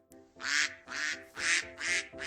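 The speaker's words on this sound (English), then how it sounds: "Quack quack." About five quacking calls sound in a Minecraft woodland scene, spaced at a regular pace and fairly close, over a faint steady background tone.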